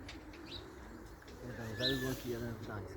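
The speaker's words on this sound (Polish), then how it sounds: "I tak chodzą panowie gołębie." Pigeons coo softly in low, rolling murmurs against steady outdoor background noise, with a few faint chirps mixed in.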